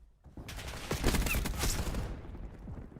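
Rapid gunfire exchanged during a competitive esports video game match, a burst of overlapping shots filling the middle of the moment before tapering off, with some speech faintly underneath.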